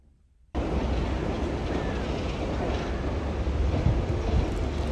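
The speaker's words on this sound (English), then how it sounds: "That sound that sounds like a tank is actually a tractor going over cobblestone roads" A tractor drives over a cobblestone road in Kyiv, a loud, steady, tank-like rumble that starts abruptly after a short silence and continues without pause.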